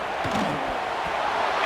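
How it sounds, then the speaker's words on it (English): A simulated stadium crowd in College Football 26 roars steadily behind the defense on third down, a broad sustained wall of cheering that swells slightly toward the end. "Decibels rising as the crowd gets behind this defense on 3rd down."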